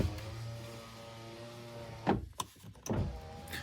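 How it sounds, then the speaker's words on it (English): Rear power windows of a 2005 Saab 9-2X Aero whir as an electric motor drives them down, a steady hum that stops with a thunk, followed by a couple of short clicks and thumps inside the car, fairly quiet and close. "The rear windows, like any WRX model, only go down so far, but they all function."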